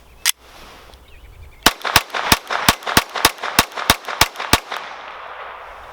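A GSG Firefly .22 semi-auto pistol fires one shot, then after a pause a rapid string of about eleven evenly spaced sharp cracks, loud and close outdoors.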